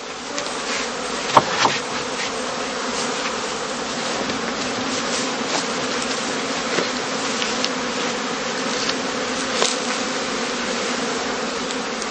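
Honeybees hum in a dense, continuous buzz around heather skeps laid on their sides on a shelf in a heathland apiary, loud and steady, with occasional soft knocks and no talk.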